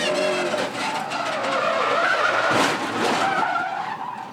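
A race car skids wide through the marbles toward the outside wall, a loud continuous tire squeal and engine roar sustained throughout with a sharp impact near the middle.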